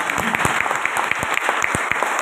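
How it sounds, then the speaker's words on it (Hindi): Vigorous applause from an audience at a Safe Shop meeting honoring seniors, dense clapping with sharp individual claps standing out, continuous and fairly loud throughout. "तो दोस्तों सारे सीनियर्स को जबरदस्त ताली होना चाहिए"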